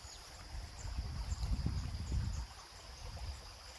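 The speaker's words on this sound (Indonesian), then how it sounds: "suaranya air gemericik seperti di tempat kita ya, di kampung kita" Low, bubbling water gurgles steadily with a faint high hiss above it, a gentle stream in the Korean countryside near rice fields, with no voices.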